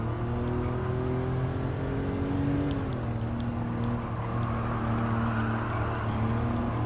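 Race car engines drone and rev steadily in Gran Turismo 7 while overtaking a Mazda Atenza sedan, loud and continuous with shifting pitch as cars pass, no talk.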